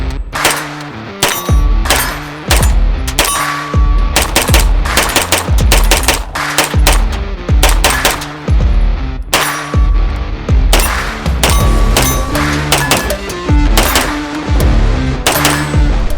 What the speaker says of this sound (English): let's go into what this thing was like to shoot at the range